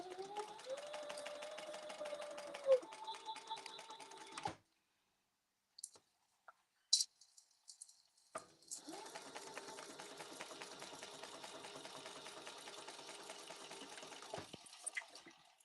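A home sewing machine stitches two rows on pink cheetah-print leather in quick rapid bursts, with a pause of near silence in the middle before the rattling stitching resumes, close and fairly quiet.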